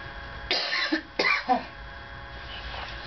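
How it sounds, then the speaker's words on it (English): Two or three harsh, close coughs in quick succession, followed by a brief throat-clearing rasp, then quiet room noise. "I just had a coughing fit there."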